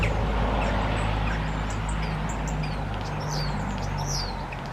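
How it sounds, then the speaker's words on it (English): Starlings sing in a mid-December garden, with thin, scattered whistles and chirps laid over a steady low hum of background noise throughout. "And those birds singing are starlings."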